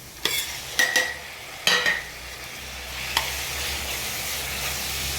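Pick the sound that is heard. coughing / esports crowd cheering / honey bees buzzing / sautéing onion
sautéing onion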